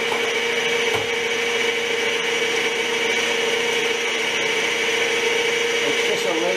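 A 12-inch Nicholson file, made in Brazil, rasping against metal on a Eureka gear cutter relieving tool, giving a steady, continuous scraping that stays loud and close throughout, with no one talking.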